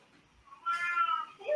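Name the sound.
elderly pet cat meowing, throwing a fit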